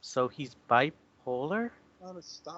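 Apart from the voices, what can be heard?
No distinct noise like a dog, phone or traffic.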